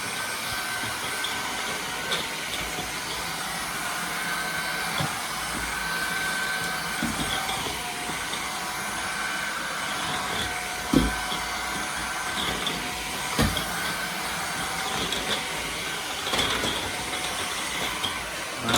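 A bagless vacuum cleaner runs on hard floor mode, giving a steady loud whirring hum throughout, with occasional bumps and knocks.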